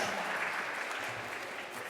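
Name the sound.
applause for a team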